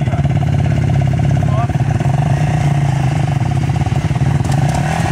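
Two motorcycles, a 450cc and a 400cc, roar against a VW Fusca 1300 in a tug of war, the engines revving loudly and close with a rough, pulsing idle and clattering undertone.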